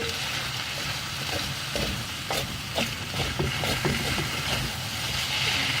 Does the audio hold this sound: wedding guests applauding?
no